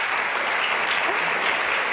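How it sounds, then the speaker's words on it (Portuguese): An audience claps steadily through a television interview, a dense, even wash of applause at moderate level with no pause and no voices over it. "Não é preciso bater assim palmas."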